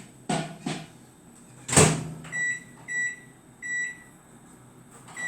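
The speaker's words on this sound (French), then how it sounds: "Le beurre au micro-ondes." Microwave oven melting butter in a home kitchen: door clunks shut near the start, a loud thump-click follows, then a steady series of electronic beeps in regular pulses, with the appliance's hum underneath.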